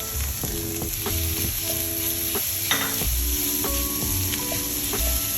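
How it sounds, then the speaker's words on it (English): Cooked chives and spinach fry in a pan with grated garlic for a vegan Chinese pancake filling, giving a steady close sizzle broken by repeated scraping and stirring strokes of a utensil. "Keep frying for about 1 minute."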